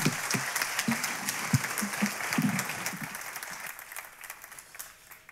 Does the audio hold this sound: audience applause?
yes